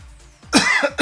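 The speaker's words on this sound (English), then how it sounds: "And now just thinking of it makes me cough." A single person gives one short, close cough followed by a quick second catch of breath, fairly loud against a quiet room.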